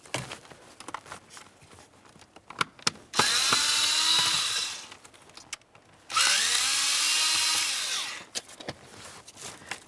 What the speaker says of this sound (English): Next we're going to remove the Phillips head screw right there and right there.